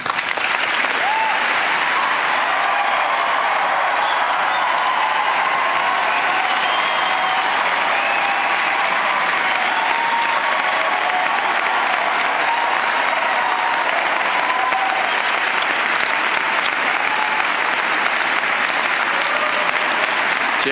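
A large debate audience applauds loudly and steadily as Obama and Romney are welcomed, a dense wash of clapping that holds for about twenty seconds without pause.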